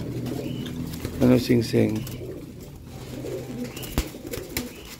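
A pet racing pigeon coos in low, throaty bursts close by, a short run of three soft calls, while a person talks nearby.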